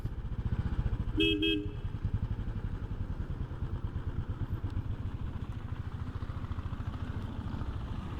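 A KTM motorcycle rides on an open road, its engine a steady close drone throughout. A brief double horn toot sounds near the start.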